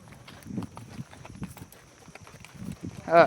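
A herd of cows walks along a path beside a millet field, their hooves thudding in an uneven, overlapping rhythm close by, with indistinct voices in the background.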